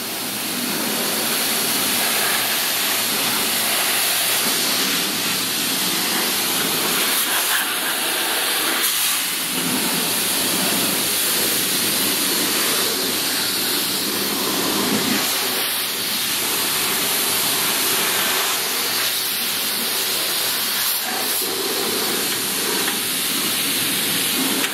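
A high-pressure washer at a car wash blasts water onto an MTD Yard Machines 5 hp leaf blower, a loud, unbroken hissing spray that runs steadily throughout with no talking.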